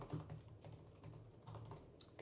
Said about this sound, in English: let's test the typing experience